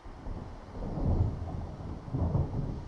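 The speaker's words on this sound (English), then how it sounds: "It seems there's a storm coming" Thunder from a storm over Cauldron Lake in the video game Alan Wake, heard as deep rolling rumbles that swell twice over a steady wash of rain and wind, with no voices.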